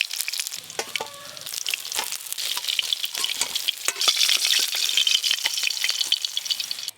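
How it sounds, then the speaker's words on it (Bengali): Rohu fish pieces fry in hot oil with a loud, bright, crackling sizzle that builds and holds steady. Scattered sharp pops and a few spatula clicks sound close by. "মাছগুলো এরকম করে ভেজে নিয়েছি, তুলে নেব এবার।"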